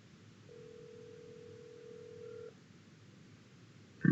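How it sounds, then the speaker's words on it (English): A cell phone call tone sounds as one steady, moderately loud two-second beep over line hiss, then falls quiet before a sharp click at the end. "Let's try to give him a call on his cell phone here."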